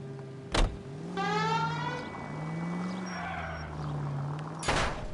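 A car in L.A. Noire is heard as a door thuds shut, the engine revs and climbs, and then the car settles into a steady driving drone. A second thud closes the sequence.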